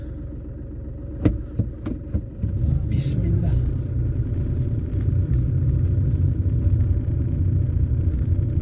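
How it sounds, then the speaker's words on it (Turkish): A car on snow tyres climbs a snowy road, its engine rumbling steadily after a few knocks at the start, with someone speaking briefly near the beginning. "Gayet rahatta çıkıyorum şu anda. Kar lastiğiyle."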